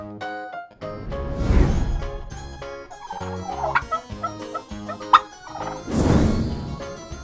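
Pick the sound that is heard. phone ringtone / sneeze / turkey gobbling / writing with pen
turkey gobbling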